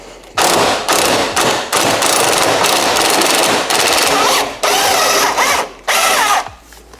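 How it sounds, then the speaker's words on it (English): Loud bursts of a 1/2-inch drive pneumatic impact wrench with an 18mm socket hammering on a BMW F90 M5 bolt, several rattling blasts separated by short pauses, close up. "using that on my 1/2-inch drive impact drill"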